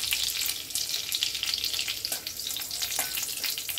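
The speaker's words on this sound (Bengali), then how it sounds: "গরম হয়ে গেছে, আমি নিম পাতাটা দিয়ে ভেজে নেব।" Neem leaves fry in a little hot oil in a wok, giving a steady, dense sizzle and crackle with faint scraping stirs, close and continuous throughout.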